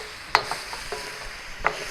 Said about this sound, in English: Now to stir fry that.